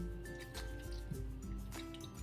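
Vinegar pours over raw chicken pieces in a bowl to wash them, a quiet wet trickle with small drips and squishy splashes, close and faint.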